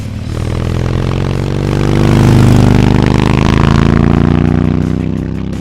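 A motorcycle fitted with a KessTech ESE exhaust sound system revs up loud and close, its engine note swelling to a peak around the middle and then easing back, with a steady rumbling drone throughout and no voices.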